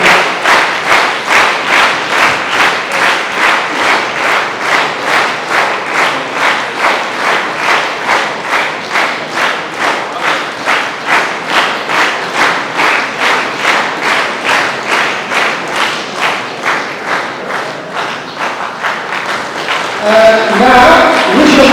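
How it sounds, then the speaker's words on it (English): An audience at a town hall award ceremony claps steadily and rhythmically for an honoree, a long even run of hand claps that thins out near the end as handling noise and a brief voice come in. "shall we all welcome her with a round of applause"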